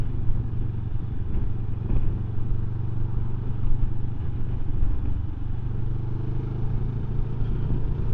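A 2024 Benelli 702 low-seat motorcycle ridden on the road, its engine rumbling in a steady, loud drone mixed with wind noise throughout, with no talking.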